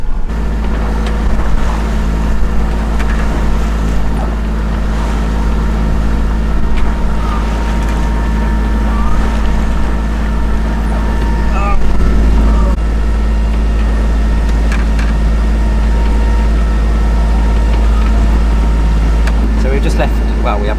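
Sailboat crossing the bay off Plymouth, a steady low rumble of engine or hull noise with wind and water wash throughout, continuous and fairly loud.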